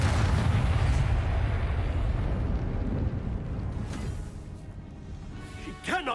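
A fire spell cast in Hogwarts Legacy: a loud, continuous roaring whoosh of flames that slowly fades, ending with a brief crackling flare near the finish.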